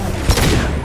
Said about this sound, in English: Concussive shot ready.